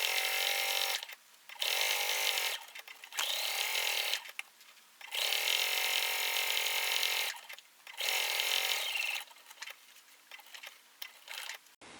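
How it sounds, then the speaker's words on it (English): A sewing machine stitching around the edge of a layered reversible tote bag, running in several bursts of a few seconds each with brief stops between, close and steady, the motor whirring and the needle chattering rapidly. "Sew to the edge, needle down, lift your foot, and pivot. And we're just going to sew all the way around."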